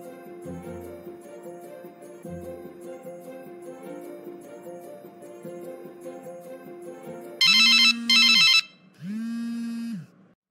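A telephone rings in two loud electronic bursts after a stretch of soft background music, cut off as the call is answered.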